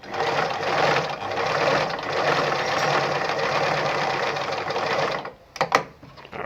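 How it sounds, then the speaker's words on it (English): Brother ZU2-B680 sewing machine sewing a straight stitch at its longest stitch length: a steady, close whirring hum of the running motor for about five seconds, then stopping, followed by a few brief clicks and taps. "So to sew the regular straight stitch, like I said, this one has to be on 0, and I'm using the highest stitch length, which is 4."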